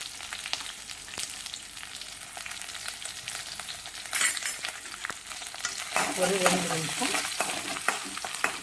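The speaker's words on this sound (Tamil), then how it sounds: "ஒரு 2 நிமிஷம் வதக்கிக்கலாம்" Shallots and green chillies sautéing in a pan for a dried-fish curry, with a soft sizzle and occasional stirring scrapes, growing louder and busier toward the end as the pan is worked.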